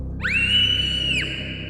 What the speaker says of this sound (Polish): Nagle wieczorną ciszę przerywa głośny krzyk przerażenia dobiegający właśnie z pokoju dziecka.